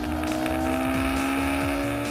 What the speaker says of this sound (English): The 458's engine is one of the few naturally aspirated engines in the world to be this amazing.